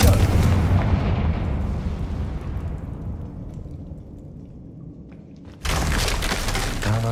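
Casting the Confringo fire spell in Hogwarts Legacy sets off a loud booming explosion with crashing debris that rumbles and slowly fades, followed by a fresh burst of clattering, shattering noise.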